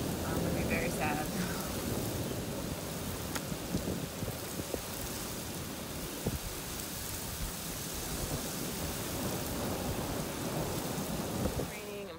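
Steady heavy rain with rumbling thunder fills the whole stretch, a dense continuous wash of downpour close by with low rolling booms beneath, and a voice talks faintly under it.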